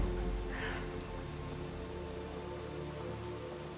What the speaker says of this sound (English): there is one thing though about it raining